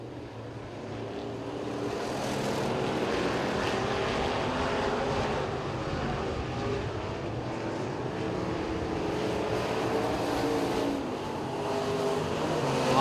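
Modified street race cars run a heat at Duck River Raceway Park, their engines roaring steadily around the track in a sustained, fairly distant drone that swells as cars pass, with no talk over it.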